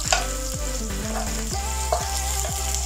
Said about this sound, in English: I will fry first the garlic. Here. And then second is my onion.